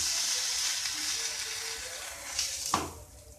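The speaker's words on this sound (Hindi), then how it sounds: "और इस साइड भी हम थोड़ा मक्खन लगा देंगे। गैस को हम धीमी कर लेंगे, धीमी आंच में इसे धीरे धीरे सिकने देंगे।" A corn coriander paratha cooking in butter on a griddle over a low gas flame, giving a steady soft sizzle, with a brief clatter of a utensil near the end.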